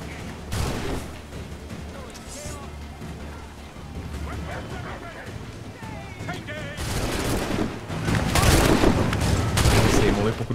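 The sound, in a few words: gunfire from enemies in video game Assassin's Creed III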